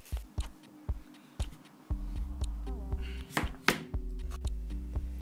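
A kitchen knife chops butternut squash into cubes on a cutting board, giving sharp, fairly regular thuds close by. They come in bursts with short pauses between them.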